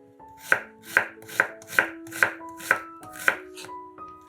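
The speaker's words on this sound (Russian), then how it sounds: "Одну луковицу нарезаем кубиками." Eight crisp knife chops dicing an onion on a cutting board at a steady, even rhythm, close and clear, with light musical tones underneath and no talking.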